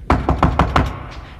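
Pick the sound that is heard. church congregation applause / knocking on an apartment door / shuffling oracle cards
knocking on an apartment door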